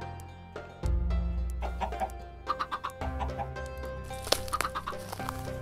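Chickens cluck in a video game, with a run of short, clipped clucks at close range that comes in bursts of varying loudness. No voices sound over them.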